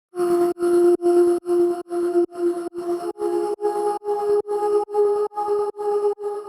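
Sampled vocal chords play as a steady run of short, evenly spaced sung stabs, about fourteen in a row, with the pitch shifting slightly partway through.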